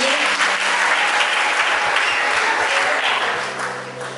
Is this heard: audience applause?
yes